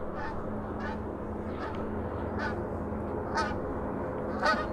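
A goose honks as it flies overhead outdoors, a few separate calls spread out over steady background noise, the last ones louder and nearer.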